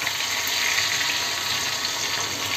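Crushed garlic hits hot oil already holding mustard seeds, cumin and a pinch of asafoetida, giving a steady, close, bright sizzle that holds evenly throughout with no talking.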